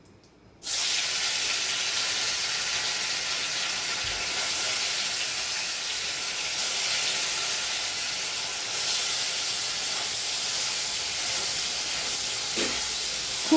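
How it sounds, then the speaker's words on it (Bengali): Paneer pieces fry in hot mustard oil in a kadai, giving a loud, steady sizzling hiss that starts abruptly and carries on without a break, with no voices. "এবার আমি পনিরগুলো একে একে ভেজে নেব"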